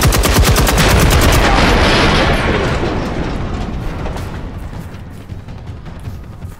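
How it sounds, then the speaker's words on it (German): Rapid automatic gunfire from the video game Generation Zero, loud and dense at first, then thinning into scattered shots with an echoing tail as the burst fades. "Ich hab über 2000 Schuss verballert."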